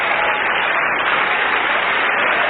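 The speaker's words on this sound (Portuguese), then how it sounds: "Então vamos dar a melhor salva de palmas para esta palavra" A church congregation applauding, a dense, steady wash of clapping at full volume with no voices over it.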